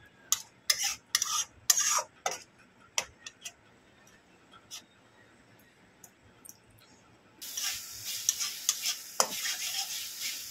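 A spoon scrapes and clatters in a pan as spices are stirred and fried for an okra curry, with sharp separate strokes at first and then a steady sizzle rising near the end.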